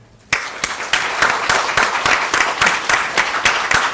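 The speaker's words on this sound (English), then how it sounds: "A round of applause for him." An audience at a Nobel Peace Prize anniversary celebration for the 14th Dalai Lama bursts into applause, loud and sustained, with dense overlapping claps carrying a steady rhythmic pulse throughout.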